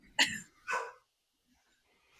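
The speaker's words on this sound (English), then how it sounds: "I apologize if you can hear my barking dog in the background" Two short, sharp barks from a dog close by, followed by silence and a brief noise at the very end.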